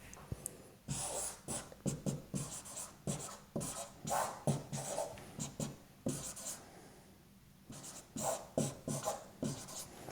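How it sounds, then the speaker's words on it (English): Chalk writing on a classroom blackboard during a physics lecture, a steady close run of scratchy strokes and taps in irregular bursts with short pauses between words. "Let me write this down here because I'm going to need to erase the board here."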